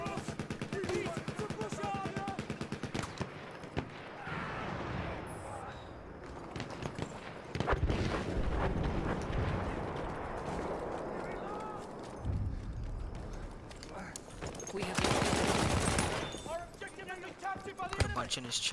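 Rapid bursts of automatic gunfire from Battlefield 1 multiplayer rattle through the scene, with louder volleys near the middle and end, while someone talks excitedly over the shooting.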